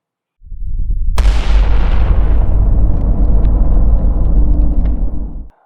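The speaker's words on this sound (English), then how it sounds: "the explosion that I created in Blender" A computer-generated land explosion erupts with a sudden deep boom, then a sustained, loud rumbling roar that holds for about four seconds before cutting off abruptly.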